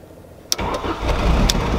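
A VW MK4 wagon engine cranks briefly, then catches and settles into a steady idle with a couple of short sharp clicks along the way, loud and close.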